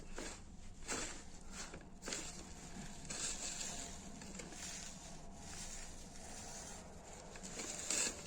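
Half a kilo of frozen kunafa dough is rubbed and crumbled finely by hand, giving a close, continuous dry rustling patter with brief, slightly louder crunchy bursts.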